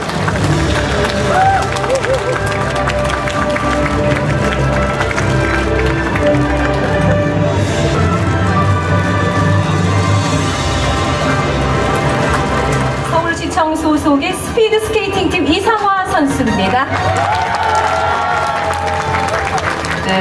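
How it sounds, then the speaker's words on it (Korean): Sustained applause and crowd noise in Seoul welcoming Korean Sochi Olympic athletes fill the space, steady and loud, with voices and cheering rising over it toward the end. "대한민국을 빛낸 소치 영웅들을 뜨거운 박수로 환영해 주시면 감사하겠습니다"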